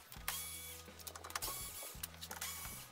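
Electric screwdriver backing out 25 Torx screws from a Mercedes W639 Vito grille, three short whirring motor bursts with brief gaps between them, close and fairly quiet.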